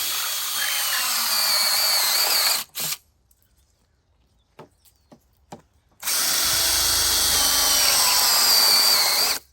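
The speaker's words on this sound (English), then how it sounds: "Next up, I put a 4-inch cap, and I use this drill bit. It's a unibit." Two loud bursts of a power drill boring a unibit step drill bit through a 4-inch cap, separated by a few seconds of near silence with brief clicks and short spins.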